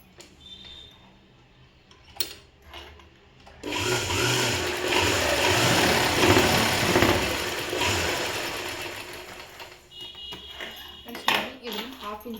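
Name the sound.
sewing machine stitching a folded fabric hem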